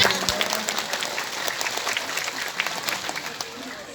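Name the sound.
audience applause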